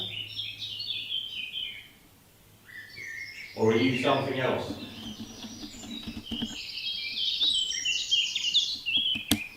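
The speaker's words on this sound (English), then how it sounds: "Birds are going crazy." Busy high chirping and tweeting of several birds, continuing throughout, with a person speaking briefly partway through.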